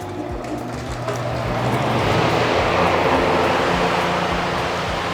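A powerful fan roaring steadily and loudly close by, a broad rushing whoosh that builds slightly after the first second and then holds constant.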